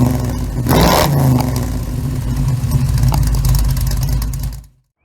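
A Mazda rotary turbo engine cranks over during a compression check, a steady rough mechanical churn that continues for about four and a half seconds before cutting off to silence.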